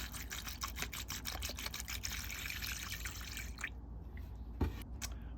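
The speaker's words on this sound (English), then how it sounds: "First thing we're going to do is put it in our little vat here, and we're using the Evapor Rust" A tube cutter lowered into a small vat of Evapo-Rust liquid, close splashing and dripping trickles that thin out, followed by a single soft knock.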